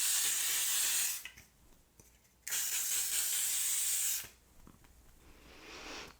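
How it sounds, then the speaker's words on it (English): Two bursts of makeup setting spray hiss from an aerosol, each lasting about a second, with a short pause between them and a softer hiss trailing at the end. "I'm gonna go into my L'Oreal setting spray right here"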